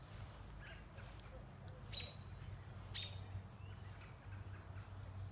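A young pet bird, grown up from a baby, gives two brief, faint chirps about a second apart over a steady low indoor hum.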